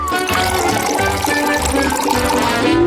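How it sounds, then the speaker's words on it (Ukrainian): Milk poured into a bowl of crushed cereal flakes, a steady liquid pour and trickle running close and continuously for the whole few seconds, with no talk over it. "Відправляємо все в миску та заливаємо молочком."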